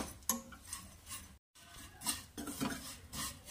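A spoon scrapes and stirs vermicelli roasting in ghee in a pan, giving soft rhythmic metallic rubs and faint sizzling, quiet and close, with a brief dropout in the middle.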